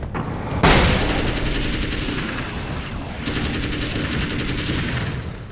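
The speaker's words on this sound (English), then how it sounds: "Flashbang out. Bang." A flashbang grenade goes off in the video game Alan Wake with one sharp, loud bang, followed by a sustained roar of rapid gunfire and rumbling blasts that fills the rest of the moment.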